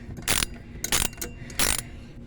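Three short ratchet bursts, evenly spaced, as a hand ratchet tightens the front shock nut on a 1999 Ford Explorer, each burst a quick run of sharp clicks, close up.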